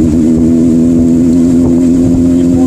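A Honda CBR motorcycle ridden on a rough, dug-up road between Abbottabad and Mansehra in Pakistan, its engine humming loud and constant at steady revs, close to the microphone.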